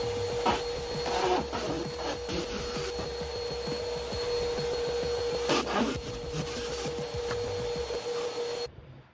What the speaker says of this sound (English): I do like to have the vacuum on